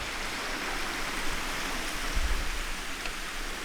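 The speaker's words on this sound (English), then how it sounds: "just upstream here is that nice little waterfall, which is quite pretty" Steady rushing water from a small waterfall close by, a broad, even roar continuous throughout with no voices.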